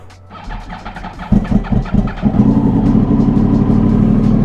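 A Yamaha R1 sport motorcycle engine cranks and sputters in cold weather, then catches and settles into a loud, steady idle close by.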